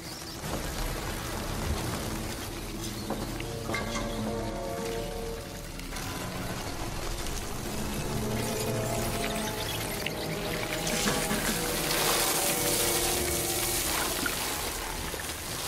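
Water pours with a continuous splashing trickle for about fifteen seconds in a dubbed action-thriller scene, mixed with background rumble and other soundtrack noise.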